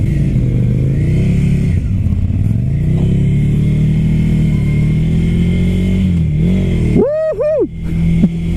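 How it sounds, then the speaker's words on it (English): A Ducati Scrambler Flat Track motorcycle engine idles loudly up close, its low rumble shifting in pitch before two sharp throttle blips rev it quickly up and back down near the end. "here it is, the Ducati Scrambler"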